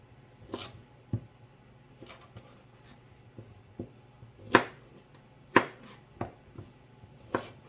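A paring knife trims the ends off four rinsed carrots on a cutting board, making sparse, quiet chops and clicks spaced a second or so apart, with no talking.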